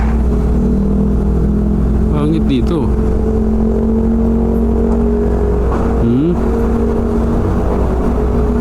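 Steady road traffic on MacArthur Highway toward Caloocan in Manila, a continuous loud rumble of car engines with a passing vehicle's rising whir, while someone speaks briefly over it.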